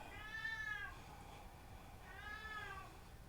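A cat indoors meows twice, each a drawn-out, rising-then-falling call about two seconds apart, faint and heard alone with no talking.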